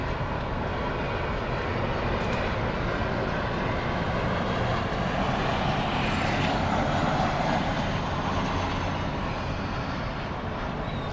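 An Eastern Air Express airliner arrives at Miami Airport, its engines giving a steady broadband roar that holds at a fairly constant level for the whole stretch, mid-distance and continuous, with no voices.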